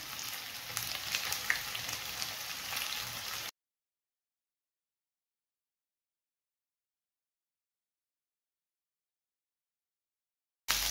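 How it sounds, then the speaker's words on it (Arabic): Camel tongue sizzling in butter and ghee, a close, steady crackling fry for a few seconds that cuts to silence and returns briefly at the end. "نشوح اللسان في الزبدة والسمنة لحد ما بيتحمر"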